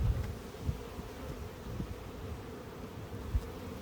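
Honeybees buzz in a steady, close drone at an open hive during an inspection, with faint low bumps from handling and no talk.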